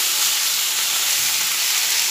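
Eggplant, pointed gourd and ridge gourd fry in hot oil with a steady, dense sizzle that holds loud and even from start to finish, with no voices.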